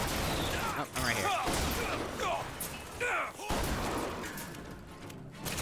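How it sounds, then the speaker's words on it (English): A turret in a video game fires repeated gunshots amid a chaotic firefight, sharp bursts recurring over several seconds beneath a person talking. "Oh, that's a turret."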